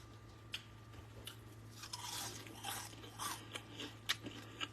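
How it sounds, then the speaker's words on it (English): Crisp crunching of a bite into fried fish, a few sharp crackly bursts against steady background hum, close and fairly quiet with no talking. "hear that crunch?"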